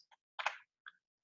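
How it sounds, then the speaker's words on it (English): Typing on a computer keyboard: a few separate clicky keystrokes, one brief burst followed by a couple of lighter taps, close up and quiet, with no talk. "all I'm doing is typing right now"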